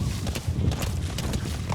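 A horse gallops in Metal Gear Solid V, its hooves pounding in a quick, steady, close clip-clop rhythm over a low rumbling bed, with no talk.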